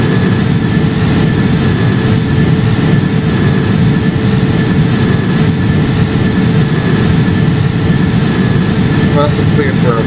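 Simulated jet engines of an Air Transat Airbus A330 in the Roblox game Project Flight make a loud, steady roar with a low rumble and a faint whine, holding an unbroken level throughout.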